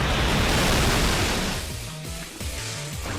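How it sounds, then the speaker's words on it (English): The Waterfall attack in the video game Pokémon X gives a loud, steady, rushing wash of water-like noise. It thins partway through into lower, tonal game effects. "We're going to try to one-hit KO it with a Waterfall."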